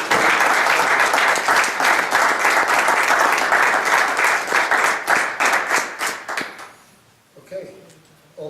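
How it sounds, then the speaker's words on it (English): Applause at a school committee meeting, a room of people clapping briskly and loudly for several seconds before it trails off into scattered claps and a quiet voice. "I just think a round of applause at this time."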